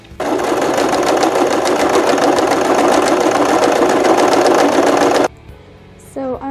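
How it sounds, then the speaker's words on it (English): A sewing machine stitches up a futon cover with a loud, steady, rapid mechanical whir and needle clatter for about five seconds, then stops abruptly, followed by a quiet pause and a voice speaking. "I'm going to sew that up now."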